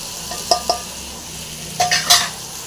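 Grated coconut and masala spices frying in a pan, with a few quick metal spoon scrapes against the pan over a low sizzle.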